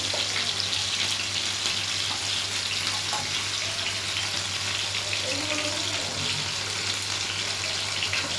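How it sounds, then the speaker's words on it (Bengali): Homemade seekh kebabs frying in a pan after being turned, giving a steady broadband sizzle that runs unbroken and fairly close throughout, with a constant low hum beneath and no talk. "আরেক সাইডটা ভাজা হবে।"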